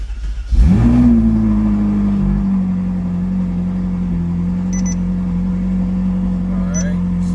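A Ferrari 458 engine cranks and catches with a sharp start, flares briefly, then settles into a steady idle hum close by, with a few faint electronic beeps later.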